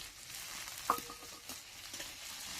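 Chopped tomato sizzles softly in a pan while making chicken kofta gravy, a hissing crackle with a clink and occasional stirring scrapes, close by.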